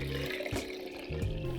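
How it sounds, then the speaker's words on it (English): Homemade rice milk poured from a jug into a storage container, a short close splashing liquid stream that starts, pauses briefly and resumes. "Transfer your rice milk into a container and place in the fridge to chill."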